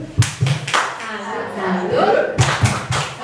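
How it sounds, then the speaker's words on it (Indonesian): At a school workshop, a group of teachers gives a rhythmic 'tepuk salut' clapping cheer: sharp patterned claps open and close the moment, with chanting voices in between. "Pak Reda, Bu Kepala Sekolah dan Bu Resti, kita kasih tepuk salut."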